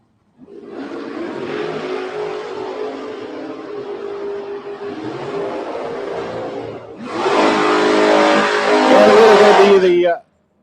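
Drag race cars in the FB Trailer Super Pro class at Gainesville Raceway roar down the strip, a steady engine drone swelling into a louder, harsher blast as a second car launches, close and loud throughout.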